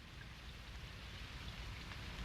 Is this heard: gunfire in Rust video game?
no